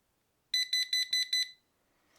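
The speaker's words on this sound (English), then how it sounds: "Then when it's done, it will beep." A large digital wall clock's timer beeps in a quick rhythmic series, five bright pulsing bursts, then falls silent.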